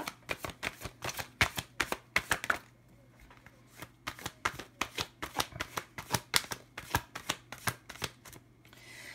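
Tarot cards are shuffled and drawn from the deck, giving a steady run of crisp, close flicking and slapping sounds. The run breaks for a brief pause, then picks up again.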